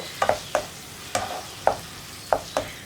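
Sauces for chapati noodles being stirred in a frying pan: a series of sharp scraping strokes, roughly six, at an uneven rhythm over a soft sizzling background, close and clear with no talk.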